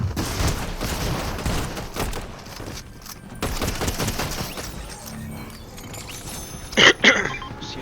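Fortnite gunfire during a competitive college esports match, bursts of rapid shots and impacts mixed with game noise, fairly loud, with a sharper cluster near the end.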